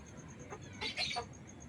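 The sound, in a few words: labuyo, a wild junglefowl, clucking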